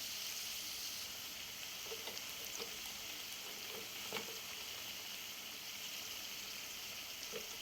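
Mustard paste masala frying in a pan, a faint steady sizzle with occasional light clicks and scrapes of a spoon, quiet and close with no talking.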